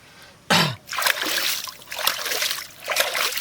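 Water splashes and pours steadily as country chicken is washed, with a sharp initial splash then continuous trickling and sloshing, close by and fairly loud.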